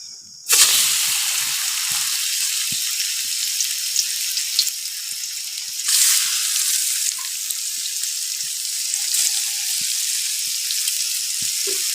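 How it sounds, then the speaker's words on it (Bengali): Fish frying in hot oil, a bright crackling sizzle that bursts in loudly and keeps going for the whole stretch, swelling briefly at intervals, with scattered soft pops and spatters and no talking. "এখন মাছগুলো ভাজি"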